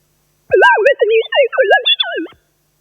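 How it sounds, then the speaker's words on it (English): Sine wave speech played back in a university lecture on sound and the brain: a single whistly, synthetic burst of gliding tonal sweeps lasting about two seconds, loud and clear with no real voice. "I will now play you, in the next slide, a portion of this sine wave speech"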